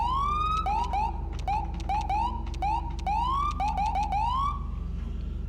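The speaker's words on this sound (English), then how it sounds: "we have also T, which is kind of like a manual siren mode" A police siren in the game LSPDFR is operated manually, producing repeated short rising whoops and chirps in an uneven rhythm, loud and close over a low steady engine hum.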